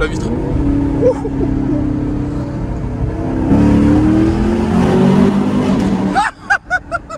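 A large 6.2-litre car engine roars steadily and rises in pitch as it accelerates through a tunnel, with people chattering over it and a few sharp bursts near the end.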